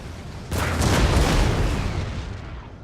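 A single heavy artillery boom in a war video game, a sudden loud blast with a broad rumbling tail that slowly fades over a couple of seconds.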